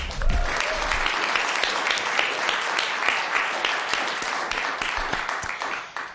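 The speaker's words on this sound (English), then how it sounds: "another round of applause for today" Sustained applause from a sizable audience, steady dense clapping throughout that tapers off at the end.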